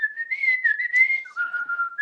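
A woman whistles a tune alone, a steady, wavering melody with brief pauses where she breathes in between phrases, close and clear.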